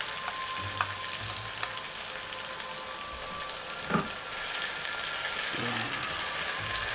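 Chicken placed in a pan sizzles in a steady, soft frying hiss, with a few faint clinks and stirring scrapes over the top.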